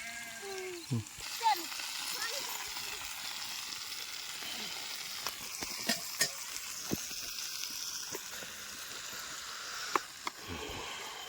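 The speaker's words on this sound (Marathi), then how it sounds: "आता इथं मिरची तळायला टाकली बरं का" Green chillies sizzle in hot oil in a pan in a home kitchen, a steady quiet crackle with occasional pops and stirring clinks, while someone talks over it.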